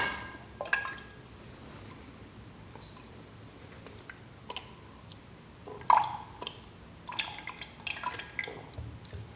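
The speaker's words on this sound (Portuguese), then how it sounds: "então vou só colocar aqui a água e é isso" Water poured into laboratory glassware during a copper sulfate solution preparation, heard as scattered drips, splashes and light glass clinks, fairly quiet with brief louder bursts and no talking.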